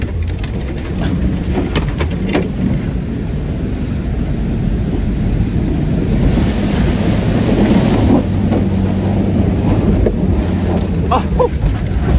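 A Ford Excursion truck drives off road, giving a steady, loud low rumble of engine and drivetrain that continues throughout, with occasional rattles and knocks over the top.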